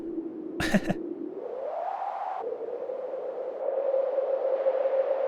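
A steady, droning synthesized pink noise through distortion and a resonant band-pass filter, with a slightly distorted tone whose pitch rises and settles, interrupted early by a brief sharp burst.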